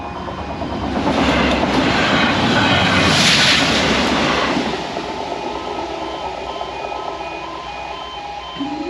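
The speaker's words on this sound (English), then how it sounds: "There goes the train." A train rumbles past close by, loud and broadband, peaking midway and then easing off into a steady fading roll.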